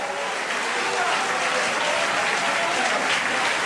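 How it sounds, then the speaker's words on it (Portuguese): A church congregation applauds steadily during a sermon, a dense wash of clapping that holds at an even level throughout. "Glorifique ao Senhor, aplauda-o se quiser"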